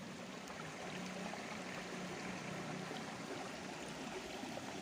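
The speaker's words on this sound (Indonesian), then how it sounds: "Sungai ini dari sumber yang beberapa ratus meter di atas sana. Dan airnya seperti ini." A clear mountain river fed by a spring a few hundred meters upstream flows with a steady, even rush of water that stays close and constant throughout, with no voices.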